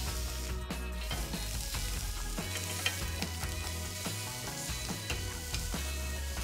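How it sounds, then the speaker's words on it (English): Prawns sizzle and fry on a very hot barbecue grill, a loud steady crackling hiss throughout with faint scraping and stirring sounds and no talk. "it's really important when you cook on a barbecue is to make sure the barbecue is really hot"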